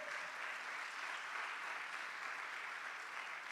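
Steady applause from a church congregation, a dense, continuous wash of clapping that holds evenly throughout with no break.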